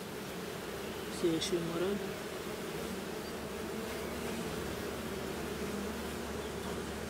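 Honey bees at a beekeeper's hive in Hungary fill the air with a steady, dense buzzing drone that continues throughout, with a short faint voice or rattle early on.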